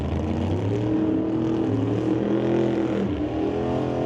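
A Chevy Malibu and an S10 in a Super Pro drag race down the quarter mile: loud, sustained engine roar with rising and shifting pitch as the cars accelerate, heard from trackside without pause.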